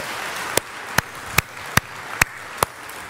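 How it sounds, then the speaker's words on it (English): Six sharp hand claps ring out at an even, steady pace during a church sermon, crisp and close over a faint room hiss. "thank you for the hand claps"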